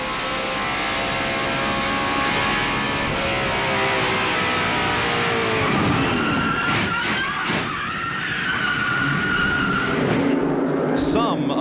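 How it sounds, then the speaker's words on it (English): A race car crashing off turn four at Darlington Raceway during a 1995 NASCAR Winston Cup race: loud, continuous engine and tire roar with skidding and descending pitch sweeps, under commentary. "something did break on Labonte's car, and he crashed in almost the same spot coming off turn four"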